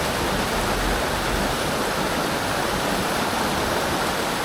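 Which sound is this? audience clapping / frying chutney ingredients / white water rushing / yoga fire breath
white water rushing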